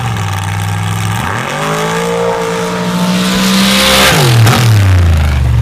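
A Ford-powered drag race car from Illinois roars loudly and close, its engine note climbing sharply through rapid gear changes as it launches hard down the track, with no talk over it.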